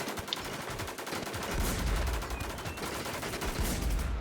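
Video game gunfire from a sniper rifle, a fast string of sharp repeated shots at steady rhythm, loud and near, with heavier thumps partway through.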